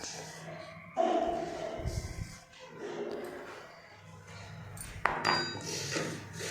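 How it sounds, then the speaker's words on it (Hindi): A spoon scoops semolina (rava) in a home kitchen, with two sharp metallic clinks about four seconds apart over soft scraping and quiet room noise. "तो ये चम्मच से हम 5 चम्मच ले लेते हैं सूजी यानी कि रवा।"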